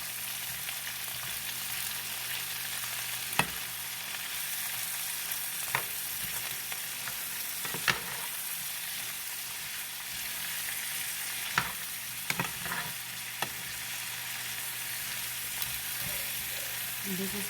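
Vegetables for pepper steak sauté in a pan, giving a constant even sizzle with a handful of sharp utensil taps spread through it.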